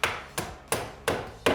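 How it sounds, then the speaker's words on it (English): A hammer taps a pin into plasterboard corner beading with five sharp, evenly spaced strikes, each about a third of a second apart, close up and clear with no talking. "Just going to hammer it in like that."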